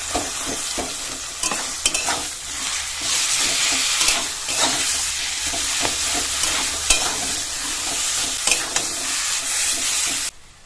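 Ground taro leaf paste frying with shrimp, salt and turmeric in a pan: a constant hiss and crackle broken by repeated scraping and knocking strokes of a stirring spoon, ending abruptly.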